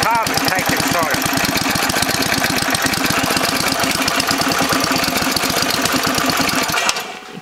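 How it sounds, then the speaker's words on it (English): A Honda GX140 small engine idles after its carburetor was cleaned of carbon, producing a loud, steady, rapid chugging putter close by, with voices over it, before cutting down near the end. "It is starting a lot better. That's idling better than what it was, that's for sure."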